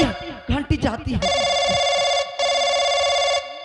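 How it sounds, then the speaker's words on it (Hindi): An old telephone bell rings in long, loud, steady bursts with a brief break between them, following some excited talk at the start. "घंटी जाती है।"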